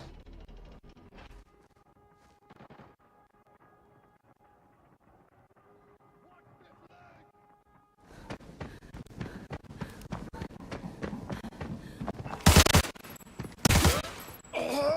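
Gunfire and movement in the video game Arena Breakout: a quiet stretch gives way to a denser clatter, then two loud, close bursts of shots near the end, with some talk faintly underneath.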